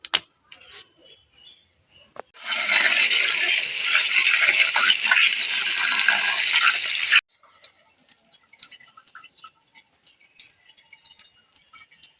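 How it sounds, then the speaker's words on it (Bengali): Cleaned puti fish being washed in water: a steady rush of splashing and sloshing lasting about five seconds, close by, followed by scattered small clicks and taps. "মাছগুলোকে বেছে ধুয়ে নিলাম একবারে দেখুন মাছগুলো পুঁটি মাছগুলো ধুয়ে নিয়েছি"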